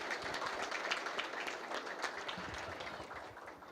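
Book launch attendees applaud a guest speaker, a veteran labour inspector, with a brief burst of many hands clapping together, a thick, even rustle of claps at moderate volume that eases slightly toward the end.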